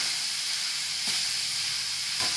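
Chopped onion fries in a pan over a high gas flame until soft for a spicy onion chutney, giving a steady, close hissing sizzle with a couple of brief stirring scrapes.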